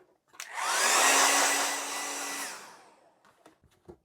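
Hair dryer blowing on a freshly finished watercolour painting of loose autumn trees, a steady whooshing roar with a whining tone that runs about two seconds, then fades and switches off, followed by faint handling taps.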